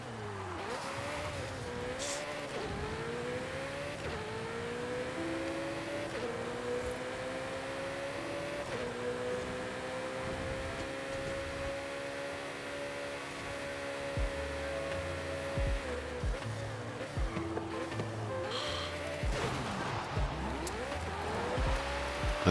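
A racing car engine in Forza Horizon 5 hums and whines steadily, its pitch rising and falling with throttle through corners, with faint tire noise and no talk.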